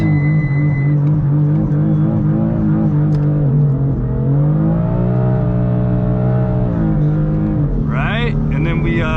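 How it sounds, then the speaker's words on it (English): A car with a dual-clutch transmission revs hard during a brake stand launch and burnout, a loud sustained engine drone that climbs and holds before rising sharply near the end, with someone talking over it throughout. "You actually have to dump the clutch like that and then let the car do a burnout."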